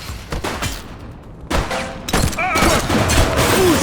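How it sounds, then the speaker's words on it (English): Bursts of gunfire crack through a street shootout in The Precinct, a police video game, with sharp repeated shots and impacts clustering from midway on, rising louder toward the end over background commotion. "We're getting shot at."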